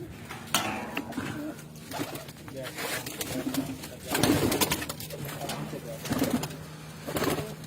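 Several breeding pigeons, a flock of around 30, coo softly and repeatedly nearby, low rhythmic calls overlapping, with a person speaking over the steady cooing.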